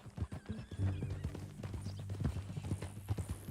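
A horse in the video game Red Dead Redemption 2 clip-clops along with rhythmic hoofbeats and lets out a clear whinny, heard up close and fairly quiet.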